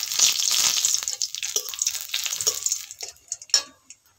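Whole spices and dried red chillies fry in hot mustard oil with a loud, dense, steady sizzle close by that gradually thins out, broken by a few scrapes of stirring near the end.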